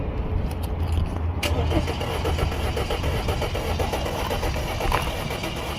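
A 2012 Audi A4 2.0T with misfire codes cranks and runs, with a steady low engine rumble and rhythmic pulsing throughout, close up, while a person talks briefly.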